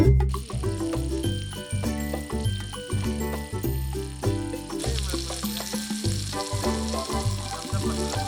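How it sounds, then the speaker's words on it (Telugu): Corn-flour-coated chicken pieces frying in melted butter in a pan, a steady close sizzle with crackling throughout and no talk. "కార్న్ ఫ్లోర్తో కోటింగ్ వేసిన చికెన్ యాడ్ చేయండి. గోల్డెన్ బ్రౌన్ కలర్ వచ్చేంత వరకు ఫ్రై చేయండి."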